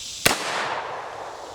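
A 20-inch AR rifle fires a single 5.56 55 grain ball round at blacksmith-made armor, one sharp crack followed by a faint rushing decay.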